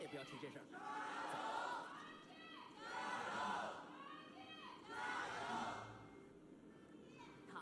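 A large Chinese esports arena crowd at a League of Legends match, Thunder Talk Gaming versus RNG, roaring and screaming in three swelling waves of loud, dense cheering.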